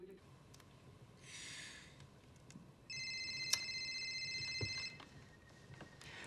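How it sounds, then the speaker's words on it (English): A telephone rings in a TV drama scene, a steady electronic ring of about two seconds that is moderately loud over quiet room noise, with brief breathy sounds nearby. "Uh-oh, it's the phone."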